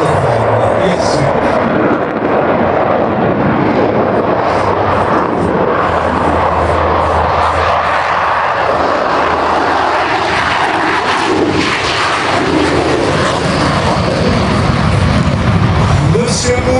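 Several airplanes take off at an airshow in Rennes, a loud, continuous jet and engine roar that stays steady throughout with no break.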